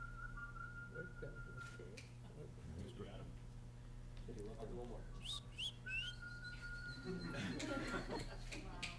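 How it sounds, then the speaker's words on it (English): Faint person whistling in a meeting room, short tonal whistles and chirps scattered among murmured talk and a steady background hum. "Make like a whistling noise, too."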